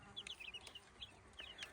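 Week-old Master Grey, Redbro and naked-neck chicks peep in quick, high, thin chirps, several overlapping calls close by with brief pauses between them.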